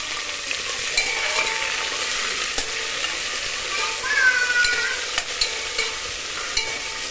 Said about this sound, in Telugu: ఇవన్నీ మంచిగా ఫ్రై చేసుకోవాలి.